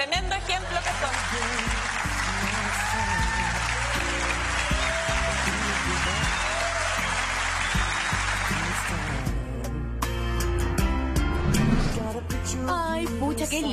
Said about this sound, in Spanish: todos les demos un aplauso por el tremendo ejemplo que son